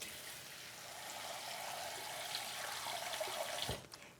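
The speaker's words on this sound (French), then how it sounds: "Et là, on ajoute de l'eau." Cold filtered water poured into a bowl of pumpkin seeds, a steady close splashing stream that runs for several seconds and then cuts off.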